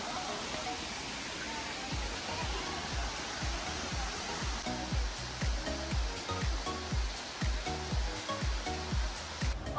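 Indian Run Falls pouring as a steady, even rush of falling water, fairly faint and continuous with no talking.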